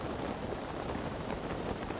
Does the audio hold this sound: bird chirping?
no